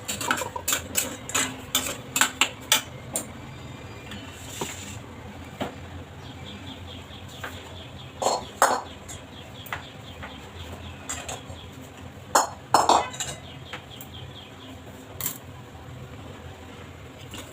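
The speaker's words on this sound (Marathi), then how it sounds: "त्याच्यात आपण भाजून घेऊया रवा।" Semolina is stirred and roasted in ghee in a pan, giving a soft background sizzle punctuated by repeated sharp scraping and tapping clicks of the spoon against the pan.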